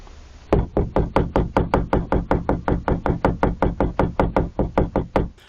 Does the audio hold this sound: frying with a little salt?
no